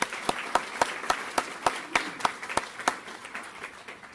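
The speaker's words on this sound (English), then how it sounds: "I'd like to give them a big round of applause" A small audience at a traffic-safety symposium claps for task force members, a dozen or so distinct, fairly regular claps standing out over a light bed of scattered applause, with no talking.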